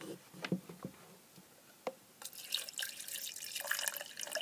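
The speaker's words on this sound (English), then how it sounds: "let's add some water to it and try it now it's fully exposed" Water is poured into a cheap Turkish stinger-style immersion kettle, starting with a few sharp drips and clinks and then turning into a brighter, steady trickling splash, fairly faint and close, with no talking.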